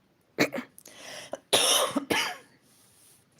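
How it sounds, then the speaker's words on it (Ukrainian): A few close coughs in quick bursts, one short and then a longer, harsher pair, with quiet pauses between. "Все ж таки кашель."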